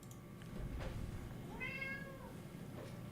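A single cat meow, a short rising-and-falling tonal call near the middle, sounds clearly over a quiet room background.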